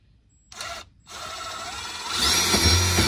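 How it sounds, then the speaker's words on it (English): A power drill whirs in short bursts, pauses, then runs steadily and grows louder as it bites into material, close and with no voices, drilling new holes for a hydraulic steering column on an outboard boat. "we're gonna drill the new holes"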